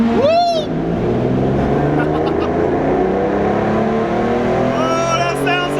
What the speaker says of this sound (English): You ready to hear all these awesome cars go through this tunnel?